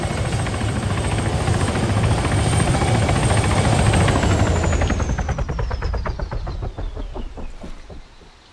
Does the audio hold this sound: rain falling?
no